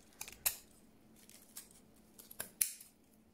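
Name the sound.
scissors cutting the tip of a tassel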